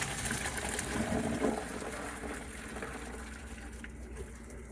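Pasta water gushes and splashes steadily from a pot for several seconds, a broad rushing pour that tapers slightly toward the end.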